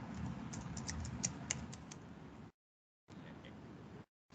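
Rapid clicking keystrokes on a computer keyboard, close and moderately quiet, in an uneven patter that stops briefly then resumes, with no talking.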